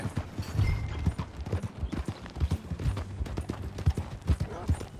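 Horse hooves clip-clopping in Red Dead Redemption 2 while riding, a steady close rhythmic trot with brief snorts and voices talking over it.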